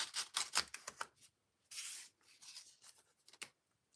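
Washi tape being peeled up from the bottom of a scrapbook page, a series of close, dry rubbing and ripping strips with short pauses, one longer steady tear in the middle, and no talking.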